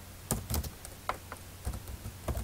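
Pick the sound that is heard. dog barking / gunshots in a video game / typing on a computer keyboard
typing on a computer keyboard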